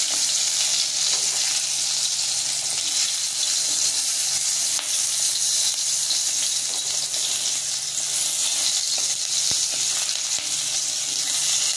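Steady, loud sizzling of eggplant frying in hot oil, a constant crackling hiss throughout with occasional faint clicks and no talking.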